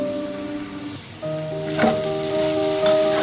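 Oil dripped onto a hot coal set inside mutton keema for biryani, hissing and crackling in a steady close sizzle that swells partway through, with a tonal hum running underneath.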